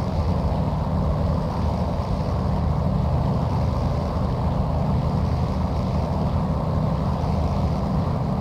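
A P-40F Warhawk engine in a flight simulator gives a steady, loud, unbroken drone with a rushing, windy roar throughout and no talking.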